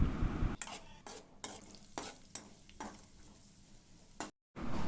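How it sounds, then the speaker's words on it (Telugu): Raisins and almonds frying in hot ghee while being stirred, with repeated scraping and clinking strokes of a spoon against the pan over a soft background sizzle, ending in a brief dropout; no talking. "నెయ్యి వేడయ్యాక 1 కప్పు కిస్మిస్లు, 1 కప్పు బాదమ్స్ వేసుకొని దోరగా వేయించుకోవాలి."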